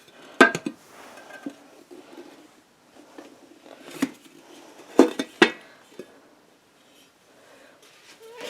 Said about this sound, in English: It's still like a little bit warm on the inside, but I think we should be good to try and flip it.